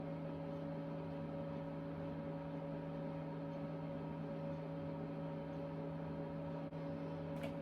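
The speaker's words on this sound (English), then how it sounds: "It's got the space heater on." A space heater runs in a cold basement room, giving off a steady, even hum with a constant tonal drone that holds unchanged throughout, close by and alone.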